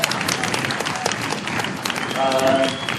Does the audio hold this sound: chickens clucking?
no